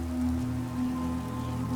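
Rain falls steadily in a video game on the outskirts of a town, a continuous patter on surfaces layered over a low, sustained background drone.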